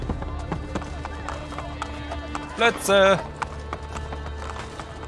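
Horse hooves in Assassin's Creed Brotherhood, a steady clip-clop of a horse in the game under someone talking, with a brief whinny or game voice rising in the middle.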